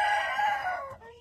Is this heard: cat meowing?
no